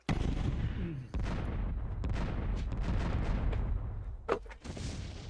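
Heavy explosions in a Lancer TTRPG mech battle, a dense run of deep booming blasts rolling one after another with a sharper crack near the end, loud and continuous with no talking.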